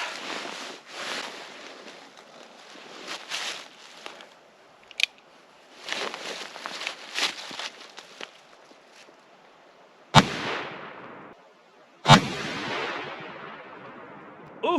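A Remington 1858 revolver loaded with black powder magnum loads fires one sharp, loud shot, with a second crack two seconds later, after scattered handling clicks and rustles.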